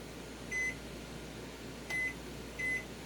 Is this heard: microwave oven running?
yes